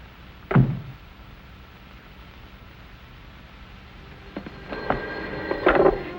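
A 1940s telephone rings faintly in a quiet room, a short burst near the start followed by another ringing burst a few seconds later, with soft clatter and background hiss between them.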